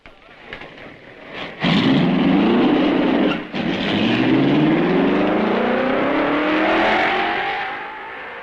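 A 1955 Formula 1 race car pulls away at the Belgian Grand Prix at Francorchamps, its engine rising from idle to a loud rasping roar with gear-change dips and climbing pitch, then easing off into the distance.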